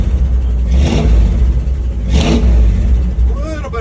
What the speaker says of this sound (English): I'm gonna give it a rev or two here.